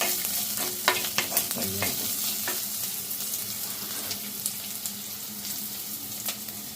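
Ginger, garlic and onion frying in a pan, a steady close sizzle broken by repeated scraping and clinking of a stirring spoon, with no voices.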